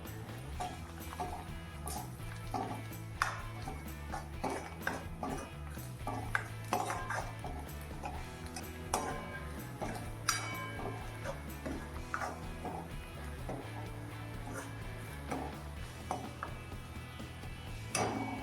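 A spoon stirring a sprouts pav bhaji mixture in a pan, with quiet, repeated clinks and scrapes of metal on metal in an irregular rhythm over a low background hum.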